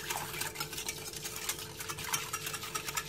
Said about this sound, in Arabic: نخلطها مزيان باش ما تكور لياش فوق البوطه